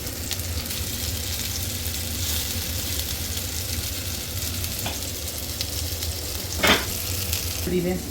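Amritsari fish pieces frying in a pan of hot oil give a steady, dense sizzle throughout, with a brief clatter as a wooden spoon turns them near the end.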